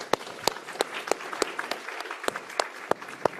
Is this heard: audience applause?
yes